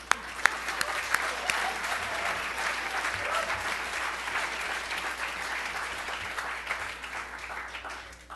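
A crowd applauds steadily at a federal election debate held at Vanier College, a dense, even wash of clapping lasting several seconds with a few sharper claps at the start and slowly easing off.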